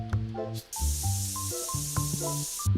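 A hissing spray attack in BioShock bursts out as a steady broadband rush lasting about two seconds, set against tonal game music and effects.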